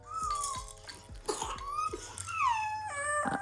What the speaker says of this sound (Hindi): इनको खांसी हो रही है